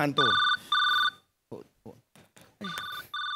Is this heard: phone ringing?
yes